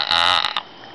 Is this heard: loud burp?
yes